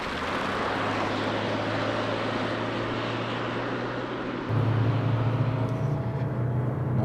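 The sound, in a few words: Ford Ranger PHEV accelerating at full throttle up steep hill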